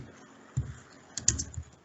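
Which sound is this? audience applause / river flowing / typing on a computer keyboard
typing on a computer keyboard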